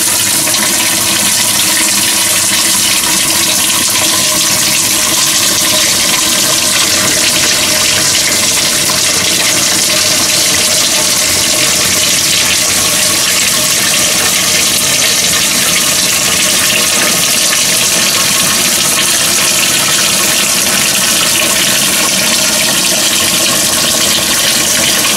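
Water gushes steadily into a freshwater tank installed in a DIY travel trailer, a loud, unbroken rushing fill with a bubbling hiss that holds constant throughout, with no talking.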